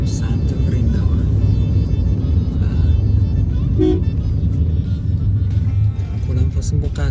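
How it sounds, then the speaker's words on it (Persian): Inside a car on the road toward Vrindavan, India: steady engine and road rumble throughout with a brief horn toot near the middle and faint chatter beneath. "سوار ماشین شدیم داریم میریم سمت برینداون."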